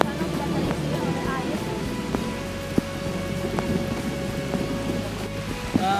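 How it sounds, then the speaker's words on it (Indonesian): Rain falls steadily and close by at an outdoor temple site, a dense continuous patter with scattered sharper drops striking surfaces throughout. "terlihat sekarang cuacanya hujan dan basah"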